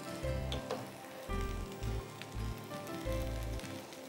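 Tofu tossed into a vegetable stir fry gives a soft, steady sizzle in the pan, with faint irregular thumps and stirring knocks underneath, quiet and close.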